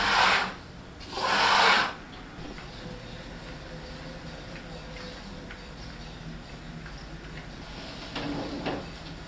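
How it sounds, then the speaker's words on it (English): Two short bursts of rough rasping as guitar frets are sanded during guitar making, like sandpaper rubbed on metal, then quieter scraping near the end over a low background hum. "is sanding the frets now."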